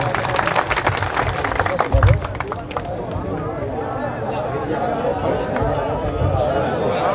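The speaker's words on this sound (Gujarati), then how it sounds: "જબરજસ્ત તાળીઓથી વધાવશું" Applause and crowd noise at an outdoor political rally in Kotarwada for the Banaskantha Lok Sabha campaign, greeting leader Baldevji Thakor as he is honored with a turban. Scattered claps burst early, then settle into a steady crowd murmur with voices over it.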